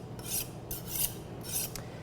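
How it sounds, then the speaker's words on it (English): A knife blade drawn across a ceramic honing steel in three rasping strokes, each a short bright scrape with brief pauses between, close and clear with no talking. "just drawing the knife across the steel"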